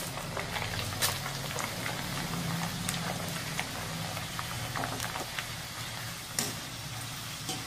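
Murmura chivda ingredients deep-fry in hot oil, making a dense, even bubbling sizzle throughout with scattered crackles and pops, close and moderately loud, with no voices.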